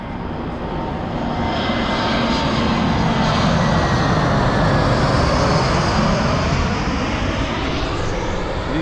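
A fixed-wing airplane passes overhead during an outdoor vehicle presentation, its engine roar a loud, steady broadband drone that swells slightly and holds through the whole stretch with no talk.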